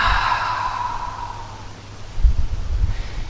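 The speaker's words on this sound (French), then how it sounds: "Prends une longue inspiration par le nez. Et par la bouche, expire." Long slow exhale through the mouth during a yoga flow routine, a close breathy rush that fades over about a second and a half, followed by soft rustling.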